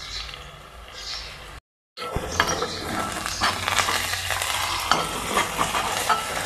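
Eggs frying in a pan for egg curry, stirred steadily, give a continuous close sizzle with scraping stir sounds, briefly cut off by a short silent gap before the frying resumes louder.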